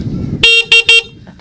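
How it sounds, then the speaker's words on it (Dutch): Horn of an E-Tours electric vehicle sounds three short, loud honks close by, the first slightly longer, in otherwise quiet surroundings. "Dus er zit ook een, goede toeter op"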